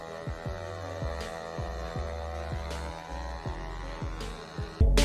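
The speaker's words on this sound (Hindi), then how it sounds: "इस स्विच को प्रेस करके मोटर को एक्सेलरेट कर रहे थे, पंखा तेज घूम रहा था" An electric motor spins a fan to push a bicycle along, giving a steady heavy hum with a rhythmic throbbing pulse that repeats about once a second, ending in a louder low thump.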